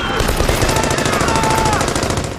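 Rapid machine-gun fire rattles continuously in a battle between Japanese troops and American and Filipino forces attacking near a prisoner camp, loud and dense bursts with overlapping shots throughout.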